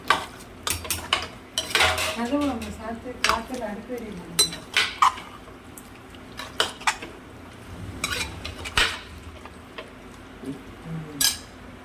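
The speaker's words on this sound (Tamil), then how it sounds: "மம்மி வந்து அரிசி கிண்டிட்டு இருக்கா." A spoon scrapes and clinks against a pot of cooking rice in a home kitchen, with rapid irregular metallic knocks and stirring scrapes throughout and faint voices in the background.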